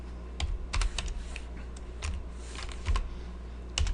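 Typing on a computer keyboard while writing C# code for a console application, a close, moderately loud series of irregular key clicks with a few heavier thumps, heard alone.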